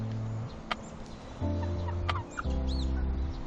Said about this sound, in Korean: 정면에서 바라본 놀부의 모습은 다소 산적 같아 보이긴 하지만 수탉답게 아주 잘생겼다